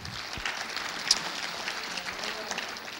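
A church congregation claps together during a Sunday morning service, a steady crackling wash of hands in a reverberant room, moderately loud and continuous with one sharper clap standing out.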